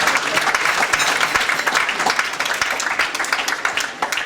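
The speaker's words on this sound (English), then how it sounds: "Give him a big round of applause." A concert audience gives a loud, sustained round of applause for a singer at a show, dense clapping with scattered sharper claps standing out.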